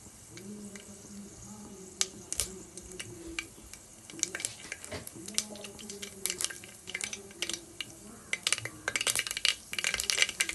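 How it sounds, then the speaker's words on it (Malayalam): Mustard seeds pop in hot coconut oil while preparing a traditional Brahmin tamarind curry, giving scattered sharp crackles and snaps over a low frying sizzle, close and fairly quiet, with no talking. "കടുക് പൊട്ടാൻ തുടങ്ങിയിട്ടുണ്ടായി കേട്ടോ"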